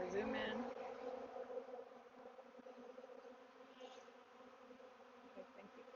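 Honeybees hum steadily in an open insulated split or nuc hive during a spring inspection, a soft, faint, continuous drone with a brief louder rustle at the start.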